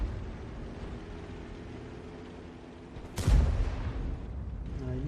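A T92 HMC artillery shell strikes a tank in a video game, landing as one sudden loud boom with a rumbling tail over steady low background engine drone.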